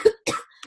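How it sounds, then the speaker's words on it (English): One person gives a short two-part cough, close and sharp, followed by a faint breathy catch. "I got a bit of a cough today."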